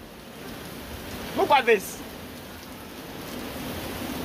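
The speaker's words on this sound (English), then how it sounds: "It's raining heavily, man." Heavy rain pours steadily and close by outside near a stadium construction site, a broad constant hiss throughout, with a man briefly exclaiming over it midway.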